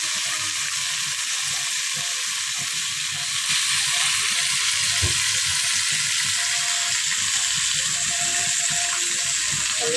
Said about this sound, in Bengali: এখন এই যে আলুগুলো তেলে বাজছে না, তরকারি রান্নার জন্য।